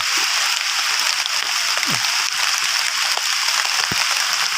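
Constant loud rain hisses throughout, with a few faint splashes and drips standing out briefly against the steady downpour.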